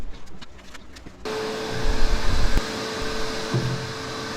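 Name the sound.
vacuum cleaner vacuuming dust from Grizzly table saw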